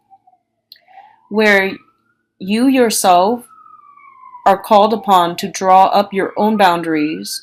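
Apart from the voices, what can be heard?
passing emergency vehicle siren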